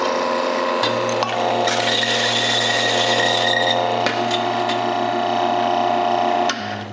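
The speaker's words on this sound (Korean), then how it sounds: "그래서 항상 그라인딩을 하기 전에 그라인더 먼저 작동을 시켜주고" Electric coffee grinder running and grinding coffee beans, a loud continuous whirring buzz with a steady low hum and gritty crunching texture that cuts off near the end.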